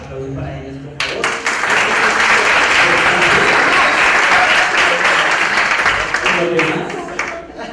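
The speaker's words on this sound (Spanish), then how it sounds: "aplausos para ellos por favor." Audience at a talk on young journalism in television and social media applauding photographers, a sudden burst of loud, dense clapping that holds steady for several seconds, then tapers off, with faint talk before it starts.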